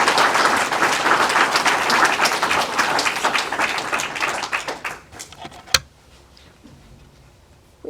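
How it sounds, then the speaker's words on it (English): Sustained applause from a lecture audience for speaker Poku Osei at a Bristol address, loud and dense, thinning out after about five seconds with one sharp clap near the end before quiet room tone. "Can we have a massive round of applause,"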